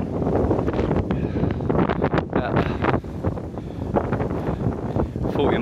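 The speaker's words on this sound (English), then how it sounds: "About 40 mile an hour wind" Strong wind of about 40 mph buffets the microphone on an open January shooting field with decoys set out, a loud continuous roaring rush with gusty surges and no talking.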